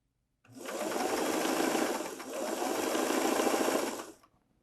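A vintage Singer 327 sewing machine stitches a full-width zigzag in two close, steady bursts of rapid mechanical whirring with a brief dip in the middle, then stops.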